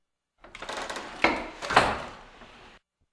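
An isolated door-opening effect from an audiobook of The Little Mermaid: a creaky wooden sliding scrape with two sharper knocks in the middle, fairly close, then trailing off into silence.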